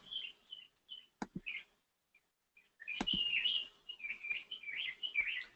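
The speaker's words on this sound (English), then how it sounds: "Can you hear those birds? I mean, chirping away." Birds chirping outdoors, with short high tweets and trills coming in scattered bursts, then a denser run of calls in the second half, alongside a few sharp clicks.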